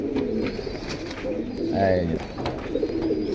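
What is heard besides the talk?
red pied pigeons cooing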